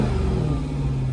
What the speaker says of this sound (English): And I just revved it.